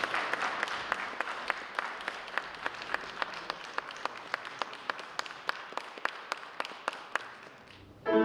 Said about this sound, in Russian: Ваши аплодисменты, друзья.